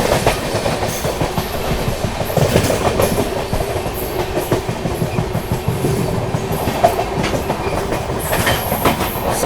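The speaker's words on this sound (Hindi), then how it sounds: "ट्रेन जो है अपनी टुंडला जंक्शन स्किप करने जा रही है" Gorakhdham SF Express (12556) running through Tundla Junction, with a steady loud rumble of wagons and rhythmic clickety-clack of wheels over rail joints throughout, no talk.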